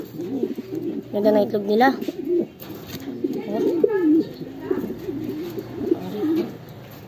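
Pigeons coo in a loft, soft rolling calls repeating close by throughout, with someone talking over them.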